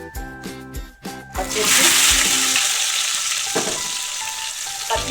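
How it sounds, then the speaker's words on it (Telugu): Cardamom pods and cloves fry in hot oil for an aloo paneer curry, a steady loud sizzle that bursts in after some clatter and stirring, then carries on with an occasional spatter. "ఈ ఆయిల్లో రెండు యాలకులు రెండు లవంగాలు చక్కా వేసుకొని ఫ్రై చేసుకోవాలి"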